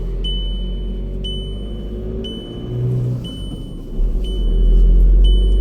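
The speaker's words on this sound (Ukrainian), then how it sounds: "турбіна кручена, міняли, тільки зробили, але вона виє" A Skoda Octavia A5 2.0 with a rebuilt turbocharger whines while driving, a thin high tone rising and falling in repeated swells over a low engine and road rumble from inside the car.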